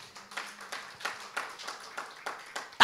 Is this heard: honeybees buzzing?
no